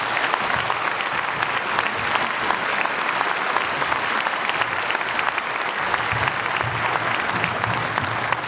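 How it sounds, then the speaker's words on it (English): A conference audience gives a warm welcome to keynote speaker Professor Charles Ogletree, with dense, even applause from many hands that holds loud and steady throughout. "Please give him a warm round of applause."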